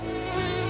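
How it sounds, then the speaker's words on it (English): Mosquitoes buzzing in a steady, loud, close whine that holds without a break through the short moment, with no voices. "Don't let mosquitoes spoil the fun."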